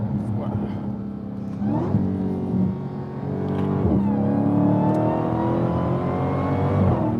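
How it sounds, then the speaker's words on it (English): A 2022 Dodge Challenger SRT Jailbreak's supercharged engine revs and climbs in pitch with a steady whine, loud and close, as speech murmurs faintly beneath it. "Listen to that supercharger."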